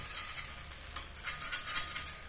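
Thavalai adai sizzle and crackle steadily on a thick dosa griddle, with a few scraping, clicking touches as the pieces are turned one by one, close and alone without talk.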